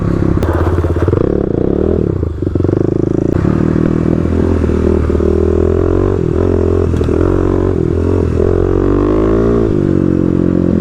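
Kawasaki KLX351 dirt bike sliding sideways on loose dirt under throttle, a loud continuous engine drone with rising and falling revs, plus scraping and crackling from the tires, recorded up close without speech.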